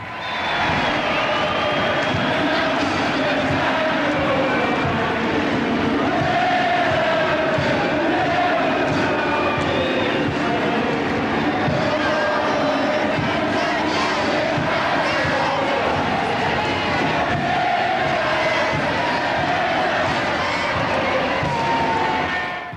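Crowds packed onto small boats cheer and shout to welcome troops home from the Falklands War, a continuous roar of many voices, dense and energetic throughout.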